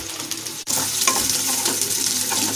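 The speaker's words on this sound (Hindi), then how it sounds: "और इसे मैं थोड़ा सा और भूनूंगी मसाले को।" Masala with onions roasting in a kadai for kadai paneer, a loud close sizzle with stirring scrapes, starting after a brief gap and continuing steadily.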